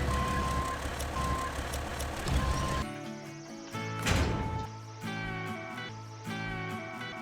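A truck reversing on a hill at an old mine site, its backup alarm beeping in regular pulses over a steady engine drone, fairly close, with no talk.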